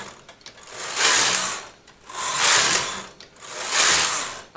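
A knitting machine carriage runs back and forth across the needle bed, making three loud rasping, clattering sweeps about a second long each, separated by brief quieter gaps, close up with no talking.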